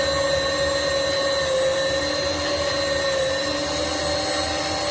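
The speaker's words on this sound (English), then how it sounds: "I guess it takes two people to run the grinder because he's putting all the meat in" An electric meat grinder runs steadily with a loud, continuous motor whine and drone while meat is fed through it, holding an even level throughout with no talk.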